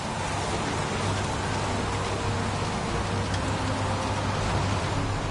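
Steady, dense rain in Heavy Rain, an even wash of falling water with a low rumble underneath, constant and unbroken throughout.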